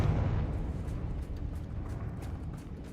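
A Confringo blasting spell goes off in Hogwarts Legacy with a dull, rumbling explosion. The blast is loudest at the start and fades into a low, lingering roar over a few seconds.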